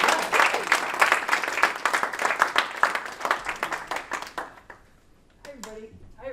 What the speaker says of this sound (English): So let's clap it up for Kate Lewis.